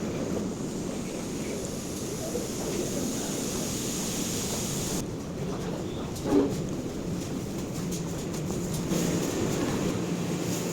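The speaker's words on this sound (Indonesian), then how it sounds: "perjalanan dan pengalaman yang menyenangkan naik kereta api Lodaya" Steady rumble of the KA Lodaya night passenger train in motion on the Solo route, a continuous broadband roar of wheels and carriage noise with faint creaks, heard from inside the executive coach without talk.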